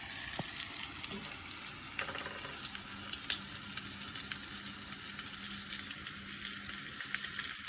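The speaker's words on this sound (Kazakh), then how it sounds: "Бірге қуыра береміз екеуін." Cutlets made with buckwheat fry in a pan with a soft, continuous sizzle and occasional faint clicks, quiet and steady with no talking.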